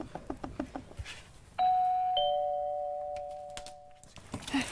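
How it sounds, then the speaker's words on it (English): A few light knocks, then a two-tone electronic doorbell chime rings out clearly and fades slowly into quiet rustling. "If you want to come in, you need to ring the doorbell."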